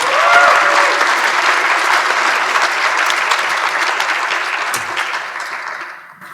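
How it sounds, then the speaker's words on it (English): A concert audience applauds a jazz band steadily, loud at first and slowly fading out. "One more round of applause for those folks."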